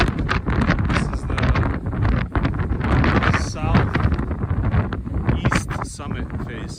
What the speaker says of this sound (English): Yeah, it's real windy. Real windy.